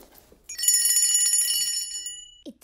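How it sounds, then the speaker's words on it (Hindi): A small hand bell rings once with a bright, sustained metallic tone that rings out and slowly fades over about a second and a half, heard close and alone in a quiet indoor scene. "इतनी पैसिव अग्रेसिव घंटी मैंने आज तक नहीं सुनी।"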